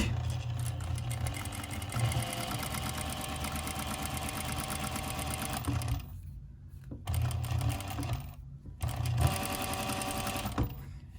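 A sewing machine gather-stitches felted wool for a cloche-style hat. Its rapid, even mechanical chatter runs in several stretches of stitching, broken by brief pauses, and sounds close and steady.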